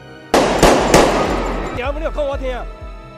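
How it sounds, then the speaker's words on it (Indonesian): Three sharp pistol gunshots fired into the sky crack in quick succession, followed by a voice speaking as the echoes fade. "mengeluarkan senjata pistolnya dan menembakkannya ke arah langit"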